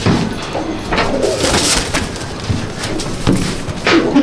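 Teddy pigeons coo close by in soft, repeated throaty calls, several birds overlapping against a faint background hiss.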